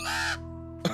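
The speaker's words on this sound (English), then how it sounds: "Crows make a cawing sound." A crow caws loudly and close in a cartoon scene, one harsh drawn-out call followed by a brief second squawk.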